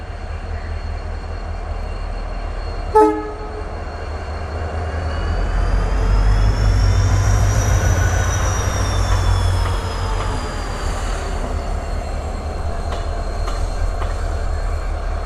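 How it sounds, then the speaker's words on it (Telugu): A locomotive rolls slowly through a station on a local reversal move, with a steady low rumble and rising wheel squeal. A sharp clank comes early, then screeching tones swell and fade. "సో మనల్ని పుల్ చేయబోయే లోకోమోటివ్ ఇది అనమాట"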